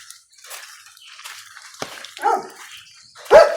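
A nearby dog on an estate in Sri Lanka gives a few sharp barks and yips, the last one loudest, with quiet gaps between them.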